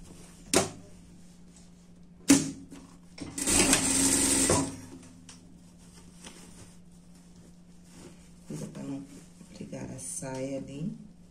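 A sewing machine stitches a dress in one short, loud burst of rapid whirring, with scattered clicks around it and a voice speaking faintly afterward.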